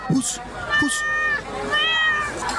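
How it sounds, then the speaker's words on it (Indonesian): A cat meows a few times close by at a dining spot, drawn-out rising cries with short gaps, mixed with people talking nearby. "Ih, ini kucing."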